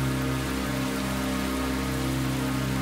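Heavy rain falling in a dense, constant wash of noise, loud and unbroken with a low steady rumble beneath, no voices.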